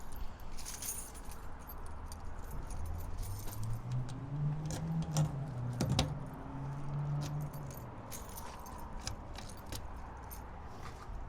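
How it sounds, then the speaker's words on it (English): A large bunch of keys for a 2022 OBI Dweller 15 off-road camper jangles steadily for several seconds, close and fairly quiet, with light metallic rattling and no talk. "Comes with a huge set of keys right here."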